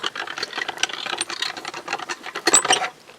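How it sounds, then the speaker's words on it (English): A manual die cutting machine presses a cutting die through card for a handmade Christmas card, giving a dense, continuous run of close ratcheting, clattering mechanical noise that grows louder near the end. "And then I'm going to run that through my die cutting machine."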